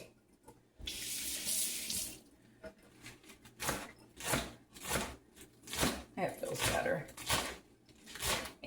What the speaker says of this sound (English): I'm going to rinse this off again too.